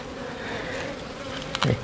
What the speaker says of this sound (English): Good little bees all over my fingers.